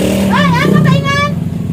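A motorcycle engine hums close by as a vehicle pulls in at a town market, under loud overlapping chatter and a rising, wavering voice.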